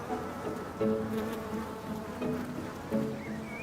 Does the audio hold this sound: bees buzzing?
yes